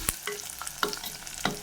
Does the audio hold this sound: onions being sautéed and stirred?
yes